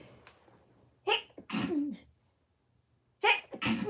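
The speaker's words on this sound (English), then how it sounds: "oh, I'm gonna sneeze" Someone sneezes twice up close in a quiet room, each time with a sharp breathy intake before the burst, and the two sneezes are separated by about two seconds of near silence.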